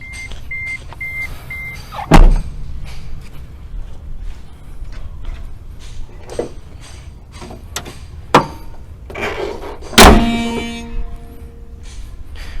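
A door of a 2.5 Isuzu D-Max Hi-Lander Gold Series pickup thuds shut once with a solid slam near the start, followed by lighter knocks and a second sharp metallic bang later.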